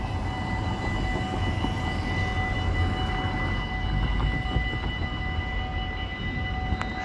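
NS trains at Oisterwijk railway station, a steady loud rumble of rolling stock with a sustained tonal hum and faint squeals over about seven seconds, no talking.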